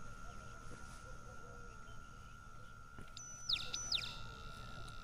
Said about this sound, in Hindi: पर ये चिड़िया इतनी सारी रात में कैसे बोल रही है